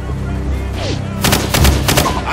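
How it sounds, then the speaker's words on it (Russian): Several rapid bursts of gunfire during a firefight in the video game Call of Duty 4: Modern Warfare, loud and close, over a low engine rumble. "Ответный огонь!"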